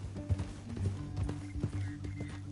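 Horse hooves clip-clop in a steady walking rhythm in Red Dead Redemption 2, fairly quiet, over a low hum and faint background sounds.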